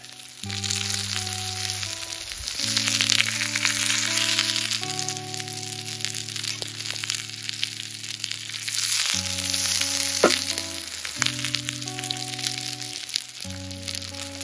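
Fish wrapped in banana leaf fries in a lightly oiled hot pan, a steady sizzle running throughout under a sustained musical backing.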